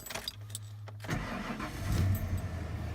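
A stock four-wheel-drive truck engine cranks briefly, catches and settles into a steady, fairly quiet idle.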